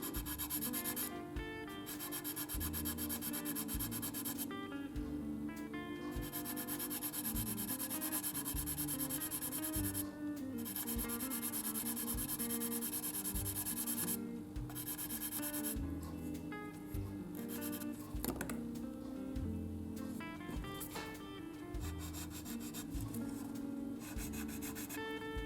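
Steady rubbing of a fine-grit abrasive strip over a 1/48 Italeri Mirage F1 plastic model kit, close and continuous with brief pauses between strokes, no talking.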